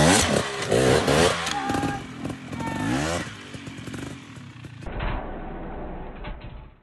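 An enduro motorcycle engine revs hard as the rider attempts to pop the clutch over a log, loud and close with rising and falling blips, then settling to a lower rumble.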